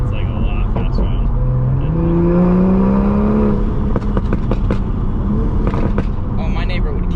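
A new Toyota Supra accelerating hard on pump gas, heard from inside the car as the engine note rises steadily under continuous conversation, with exhaust pops near the end.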